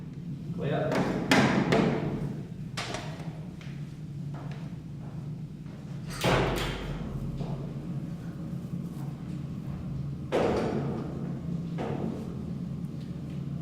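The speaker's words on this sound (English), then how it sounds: "What they're doing here is shooting a suspect's gun to try and match the bullets to those recovered from a crime scene." Test shots fired from a suspect's handgun in a forensic lab for bullet matching: three loud, sharp bangs spaced several seconds apart, with a low rumbling background and muffled voices between them.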